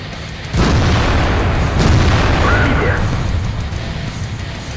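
Tank cannons boom in a World of Tanks battle, with two heavy shots about a second apart and their blasts rolling on loudly afterward.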